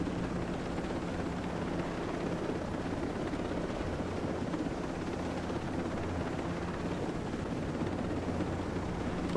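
Helicopter in the video game Ghost Recon: Breakpoint, a steady low rotor drone and engine rumble held continuously at a faint, even level with no talking.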